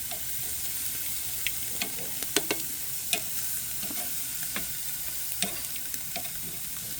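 Pork barbecue sizzles over a grill fire with a steady, close hiss, broken by scattered pops and crackles throughout.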